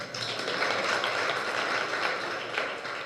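A sermon audience at a Jain pravachan claps weakly and unevenly, a steady wash of scattered hand claps holding at one level for about three seconds with no voice over it.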